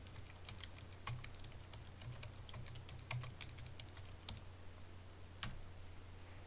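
Rapid typing and mouse clicks on a computer keyboard while working in a spreadsheet, a steady patter of soft keystrokes with a few sharper louder clicks, close and alone over a low background hum.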